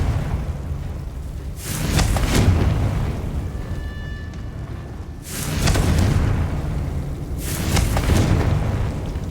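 Confringo fire spell explosions in the video game Hogwarts Legacy: three loud, booming blasts spaced a few seconds apart, each with a fiery crackling burst and a rumbling tail.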